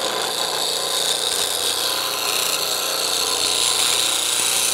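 A detail/spindle gouge is sharpened on a grinder using a jig: a continuous, bright, hissing grinding sound runs loud and steady through the whole stretch, with no pauses.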